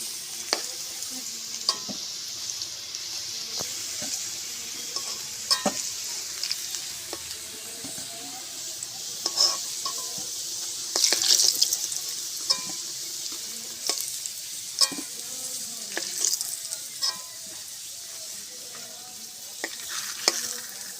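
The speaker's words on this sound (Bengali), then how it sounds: "আলুগুলো ভাজা হয়ে গেছে, তুলে নেবো।" Potatoes frying in a pan for a homemade mutton curry, with a steady close sizzle throughout and repeated sharp scrapes and clinks of a spoon stirring at irregular intervals, no voices.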